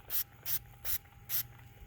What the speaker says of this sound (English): Spray it down really good all the way around the whole surface.